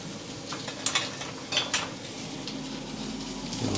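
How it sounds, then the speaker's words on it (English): Tomatoes and spinach sizzle softly in a pan, a quiet steady frying hiss with a few clinks and scrapes of a utensil stirring. "just frying off some tomatoes, wilting the spinach down"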